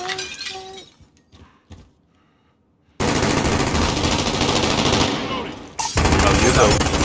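Sniper gunfire in the video game Call of Duty: after a brief quiet stretch, loud sharp shots and dense crackling bursts fill the rest of the scene, with a short gap before the firing resumes.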